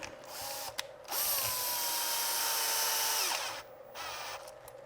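A power drill drives screws into the plastic of an RC truck chassis. There are short whirring bursts, then a longer steady high spin of about two seconds, then a brief final burst, all close by.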